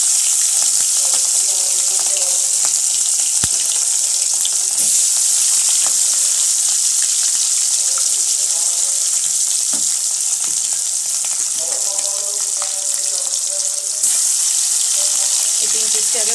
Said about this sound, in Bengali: তো এগুলোকে আমি এখন ভাজতে দেবো।